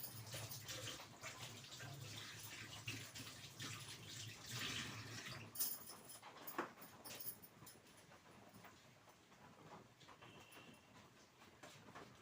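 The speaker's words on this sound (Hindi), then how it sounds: "अब मैं हाथ धो लेती हूँ।" Kitchen tap running steadily while hands are washed under it, a continuous faint hiss that gets rougher and splashier midway before settling into a softer trickle.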